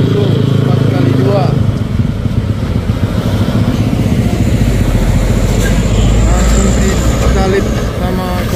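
A Fuso 4x2 dump truck climbs a hill near Bukit Kodok with a loud, heavy diesel drone that rumbles steadily throughout, while voices talk over it at close range.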